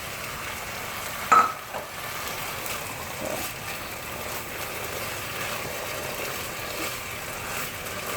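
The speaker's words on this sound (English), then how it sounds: "Keep on stirring." Spicy Thai chicken with chilli and basil frying in a pan while being stirred, a soft steady sizzle with scraping stirs and one sharp clink near the start.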